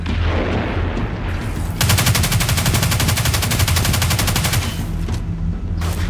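Rapid automatic gunfire from a weapon in the video game Destiny 2, a loud continuous burst lasting several seconds over game noise, with brief pauses before and after.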